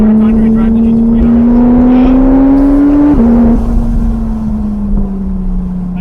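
Porsche GT3RS engine at steady high revs on a race track, a loud, continuous drone with a brief shift blip midway, heard from inside the car as it runs.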